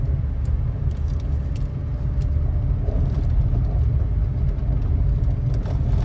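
A car engine during a beginner's first driving lesson gives a continuous, loud, close drone with road rumble, and no one speaks.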